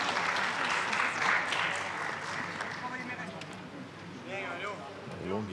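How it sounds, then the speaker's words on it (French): A crowd at a rugby league match applauds steadily, sustained clapping with a commentator's voice talking over it throughout. "Sous les applaudissements."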